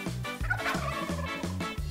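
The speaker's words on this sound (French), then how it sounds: "Oh, il y a une dinde dedans." A turkey in a garden shed gobbles in several rapid, rhythmic bursts, loud and close, with no voices.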